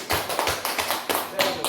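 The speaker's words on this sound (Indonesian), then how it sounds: "terima kasih, tepuk tangan" A small audience at a teachers' presentation gives brief applause, a short burst of uneven close handclaps and taps that quickly fades.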